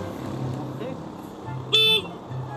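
A short, sharp motorcycle horn honk rings out close by, brief and bright, amid a low idling engine and nearby talk.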